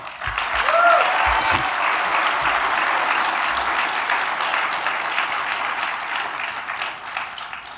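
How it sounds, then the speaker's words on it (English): An audience at a libertarian student conference breaks into applause, a loud dense burst of many hands that swells early and then carries on steadily, with a brief voice rising above it near the start. "Give yourself a round of applause."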